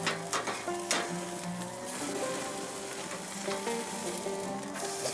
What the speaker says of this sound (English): That is what you want, that nice sizzle.